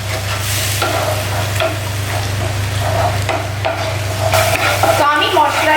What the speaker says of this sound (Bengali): এবার আমরা একটুখানি জল দিয়ে ভালো করে মশলাটাকে কষাবো।